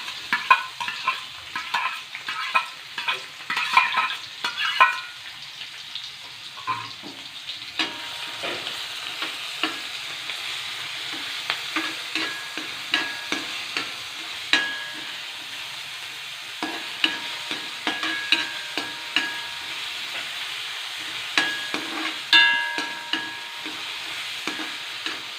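Chopped shallots and garlic fry in hot coconut oil, a sustained close sizzle punctuated by frequent rhythmic scrapes and taps of a spatula stirring through the pan.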